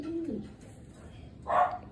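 A pigeon coos softly from close by, with a low coo at the start and a brighter call near the end, against quiet background noise.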